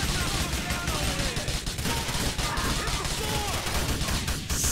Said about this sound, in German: Die Kniescheiben kaputt schießen